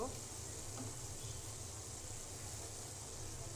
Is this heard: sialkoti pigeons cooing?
no